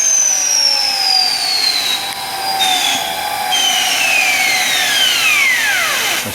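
A Fischer Dottikon center hole grinding machine spins down with a loud high whine that slides steadily lower in pitch, layered with a second descending tone and a steady rushing hum, with no voices.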